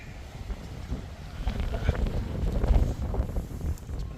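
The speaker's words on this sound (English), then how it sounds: "Very, very windy up here, so hopefully the sound will come out alright." Gusty wind buffets the microphone on open grassland at Whitby Abbey, a low rumbling roar that swells and eases throughout, loud and close.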